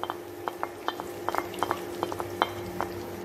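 Sliced onions, ginger, green chili and garlic being sautéed in a pan for a Kerala-style beef roast, with quiet spatula scrapes and light metallic clinks in an irregular rhythm over a soft sizzle.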